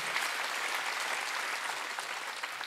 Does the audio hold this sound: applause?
yes